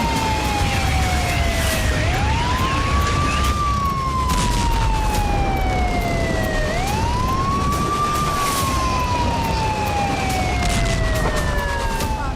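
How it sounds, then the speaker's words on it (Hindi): Emergency sirens wail up and down in slow repeating sweeps over a residential area during the Russia-Ukraine war, loud and continuous over steady background noise, with no one speaking. "कहीं रिहायशी इलाकों में सायरन बज रहे हैं।"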